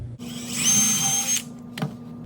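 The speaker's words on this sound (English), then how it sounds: "I'm going to put this drill into my table here" A power drill bores into a wooden table made of 2x4 stock, whining for about a second before stopping, followed by a brief bump. The sound is close and moderately loud, with no talking.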